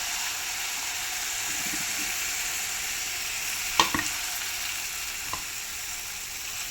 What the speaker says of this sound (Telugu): నేను డైరెక్ట్ ఆయిల్లో ఆయిల్లో వేసేసుకుంటున్నాను మసాలా మొత్తం